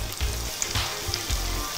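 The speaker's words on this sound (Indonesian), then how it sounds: "Kita kalau ini udah rada kering, tinggal aku masukin ke sini, kita goreng." Shredded chicken frying in hot oil for homemade abon ayam, a steady close sizzle with soft bursts of crackle and occasional stirring thumps, no voices.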